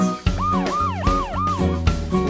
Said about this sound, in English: I see an ambulance.